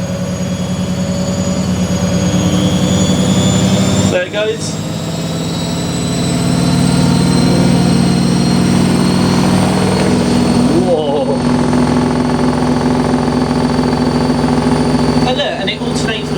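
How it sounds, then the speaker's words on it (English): A Samsung EcoBubble WF80F5E2W4W washing machine spins unbalanced at 1400 rpm, producing a loud, sustained whining roar with steady high tones that swells slightly midway, while a voice speaks briefly over it. "But this is what it'll sound like on an unbalanced 1400,"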